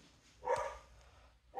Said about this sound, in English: on the note of the crazy dogs barking